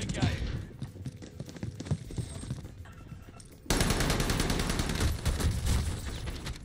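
Rapid automatic gunfire from a video game shooter crackles in dense bursts, near and loud, with a sharper, sustained volley in the second half after scattered shots and game sounds.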